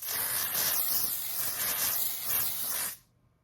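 Cosmetic dry-finish setting spray hissing out of a can in one long, steady burst close to the mic, cutting off abruptly into near silence.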